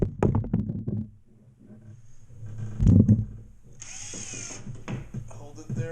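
A power drill drives screws into a drywall patch on a ceiling repaired after a plumbing leak, giving brief whirring bursts with knocks and clatter in between.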